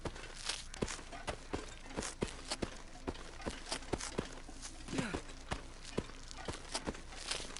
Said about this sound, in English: Listen to my footsteps.